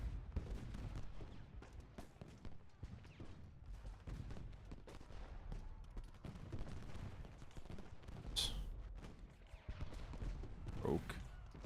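Musket volleys from massed Civil War infantry in the Ultimate General: Gettysburg battle game crackle and rumble continuously, with sharper bursts standing out near the end over a dense backdrop of distant gunfire.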